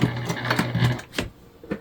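A sewing machine backstitching through a bulky layer of a fabric gift bag, short bursts of rapid needle chatter stopping and restarting, close and clear.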